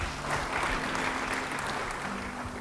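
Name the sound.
applause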